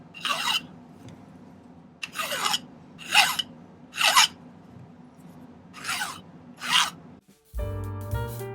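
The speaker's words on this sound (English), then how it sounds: "I'll just take the bastard file and I'll do that to all of these" Silver being filed with a bastard file, six separate rasping strokes at a steady slow rhythm, close and clear, followed by a brief clunk at the end.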